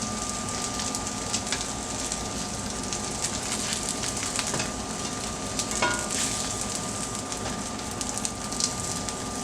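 Sausage patties sizzle and fry in a pan with a steady, soft crackling hiss, fairly quiet and continuous with occasional small pops.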